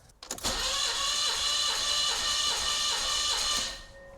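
A BMW E30 engine that has sat for four years cranks on the starter during a compression test, a steady whirring, pulsing churn lasting about three seconds before cutting off, heard close with no talk.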